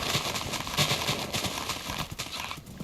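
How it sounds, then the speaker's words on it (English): Horse hooves clip-clop in a Minecraft-style hardcore game, a quick steady run of hoofbeats at moderate volume with no talking over them. "That's not even that good of a horse."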